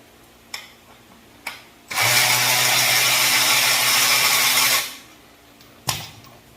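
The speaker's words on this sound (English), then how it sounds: "Take my hand dandy electric ratchet that I got for Father's Day" A Milwaukee electric ratchet takes off a go-kart racing wheel with one loud, steady whir lasting about three seconds, framed by a few sharp clicks and knocks before and after.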